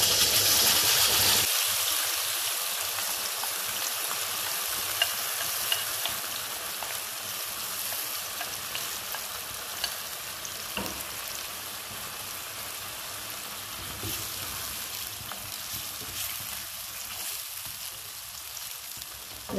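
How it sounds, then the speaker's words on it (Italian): Tomato passata hits hot garlic-infused oil and erupts into a loud, steady sizzle that settles into continuous frying hiss over a high flame, with no talking. "Siamo pronti per versare la passata di pomodoro."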